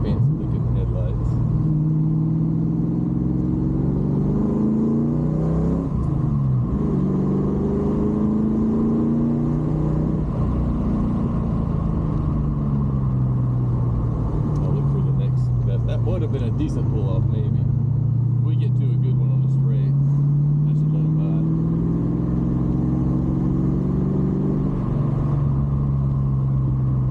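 A Chevrolet Camaro with newer-style headlights and a newer Audi pass close by, heard from inside a 1988 Ford Thunderbird 5.0 whose steady engine drone rises and falls with revs while people talk over it.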